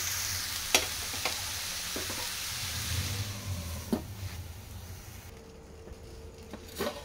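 Onions fry softly in a pan for a Telangana taro curry, a quiet, even sizzle with a few sharp clicks and scrapes from stirring, close but low in level.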